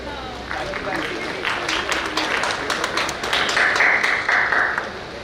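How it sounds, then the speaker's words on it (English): Applause from a conference audience welcoming committee members onto the stage, a steady wash of many hands clapping that swells slightly toward the end, with no talk over it. "Guys, let's welcome them with a huge round of applause."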